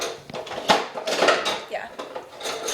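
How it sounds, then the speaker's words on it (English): A small whisk clinking and scraping against a bowl while mixing batter for magdalenas, quick irregular taps under casual talk. "We're just gonna use a whisk."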